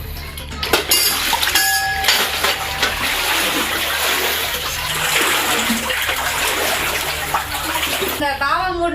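Floodwater from heavy rain in Vellore pours steadily into houses, a continuous rushing wash with occasional clinks of pots. People talk over it.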